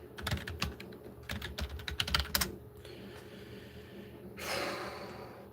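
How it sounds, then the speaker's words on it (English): Quick bursts of typing on a computer keyboard, close and clicky, followed by a pause and a breathy sigh or snort. "I typed in the wrong URL"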